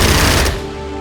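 Aircraft machine gun strafing run in Strategic Mind: Blitzkrieg, heard as a loud, harsh half-second burst of rapid fire that cuts off into a droning engine hum.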